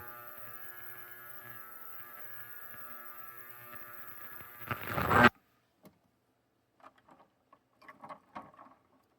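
Ultrasonic cleaner running while cleaning pens, a steady electrical hum with a faint buzzing rattle that swells briefly, then cuts off abruptly, leaving only faint scattered handling taps and clicks.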